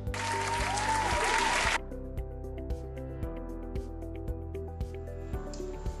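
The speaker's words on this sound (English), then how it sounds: "Let us all give her a round of applause." An audience applauds a guest, Miss Annabeth Chase, in a loud burst of clapping lasting under two seconds, then cuts to steady rhythmic background music with soft beats.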